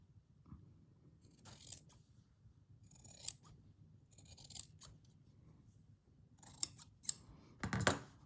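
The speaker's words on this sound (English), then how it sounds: "I'll just trim that little bit." Scissors snip through a linen tea towel in a few short, crisp bursts separated by quiet pauses, close and fairly soft, with a louder final cut; no talking.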